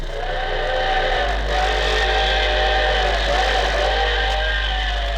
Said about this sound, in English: It's the sound of a train